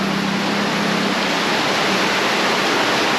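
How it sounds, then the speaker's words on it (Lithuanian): A stream rushes under a bridge in Banyuwangi, Java, Indonesia, a loud, unbroken roar of flowing water heard up close, with no voices over it. "Upeliuks, po tiltų,"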